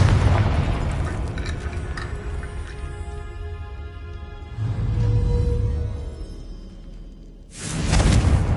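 Confringo fire spell blasts in Hogwarts Legacy, deep rumbling booms with a crackling fiery whoosh, one swelling midway and another bursting loudly near the end.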